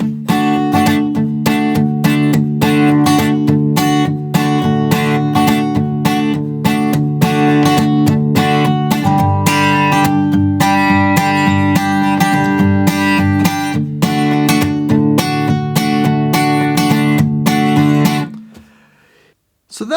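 An acoustic guitar strums the verse of a song, four bars of D, two of G and two of D, in a steady driving rhythm, loud and close, then rings out and stops.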